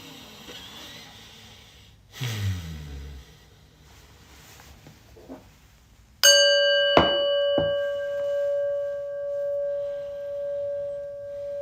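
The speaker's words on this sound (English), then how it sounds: "take a deep breath, listen to the prayer bell" A slow breath in and out, then a single prayer bell strike rings out clearly and hums on with a long, wavering decay.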